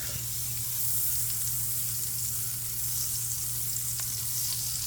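Butter sizzles steadily in a hot pan after chicken breasts were fried in it, a constant loud hissing fry with a low electrical hum beneath and no talking.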